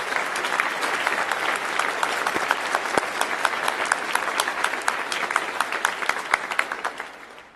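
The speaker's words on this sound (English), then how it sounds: "One more round of applause, please" Sustained audience applause for the teachers at an All County Chorus concert in Harford County, a dense, even wash of many hands clapping with a few sharper claps standing out, fading slightly at the end.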